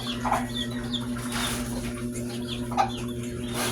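Chickens cluck in short scattered calls over a steady low hum, with several birds sounding nearby.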